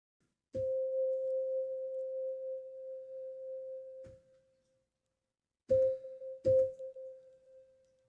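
A pure, steady electronic sine-wave tone from a Yamaha MODX FM synthesizer holds for about four seconds and fades, then returns twice in short bursts, each start marked by a click.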